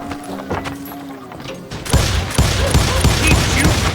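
Gunfire from the Western shooter Call of Juarez Gunslinger, with a quiet stretch giving way to a dense volley of sharp, close shots and booming impacts over rumbling game ambience.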